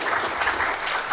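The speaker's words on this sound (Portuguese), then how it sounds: "Uma salva de palmas aqui mais uma vez" A brief burst of steady clapping from an audience at a talk on racial reparation in Brazil, dense and sustained for about a second.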